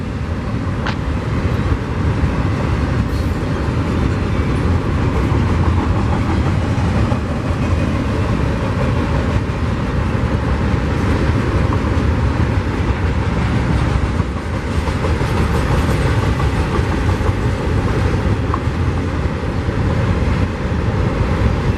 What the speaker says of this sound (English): I'm thinking this intermodal might clear before the mixed freight.